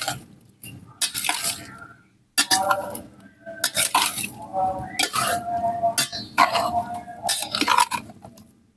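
Metal spoon clinking and scraping against a pot while stirring a white amur (oq qayroq) fish dish, with repeated close bursts of clatter separated by short pauses.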